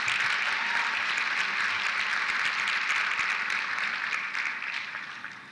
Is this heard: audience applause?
yes